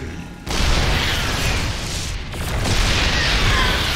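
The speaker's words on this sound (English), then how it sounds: "Boom! Siege tank versus Immortal." A siege tank in StarCraft 2 fires on an Immortal, producing a loud, heavy boom that starts abruptly and is followed by a dense, sustained rumble of battle noise throughout.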